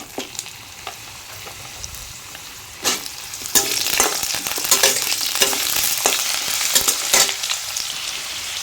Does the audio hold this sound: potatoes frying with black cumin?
yes